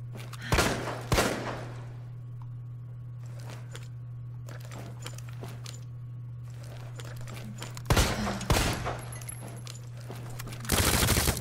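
Gunfire in the video game Resident Evil 2: a few scattered bursts of shots over a low steady hum, with quiet stretches between them and a louder cluster near the end.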